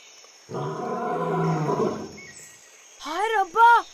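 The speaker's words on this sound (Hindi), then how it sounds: "हाय रब्बा, शेर।" A lion lets out one deep, rumbling roar lasting about a second and a half, followed after a short pause by a few high, arching bird-like calls.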